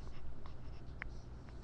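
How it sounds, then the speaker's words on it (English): Pen strokes writing the name Asano in Japanese hiragana on paper, a few close, short scratchy strokes with small pauses between them, over faint low background hum and no speech. "I'm going to write Asano first."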